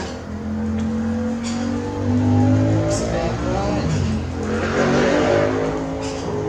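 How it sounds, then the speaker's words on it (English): Cars roll past nearby with a swelling then fading engine rumble, while a person speaks briefly over the traffic noise. "Noisy cars going by."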